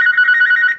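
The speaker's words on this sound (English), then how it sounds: "I'm trying to get Michael Corleone on the phone" A telephone ringing on a call, a steady electronic trill heard up close and alone for under a second.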